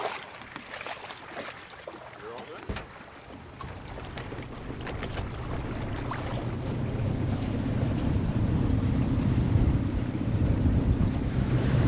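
A motorboat cruises from a river into the Walpole Nornalup inlet in South West Australia, its engine droning steadily beneath rushing wind buffeting the microphone and splashing water.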